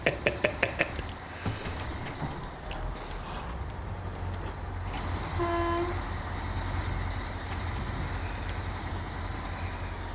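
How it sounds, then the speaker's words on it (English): Water trucks arriving in the SnowRunner video game: a few quick knocks open, then a low, steady engine rumble continues with a brief horn-like toot midway. "The water trucks have arrived."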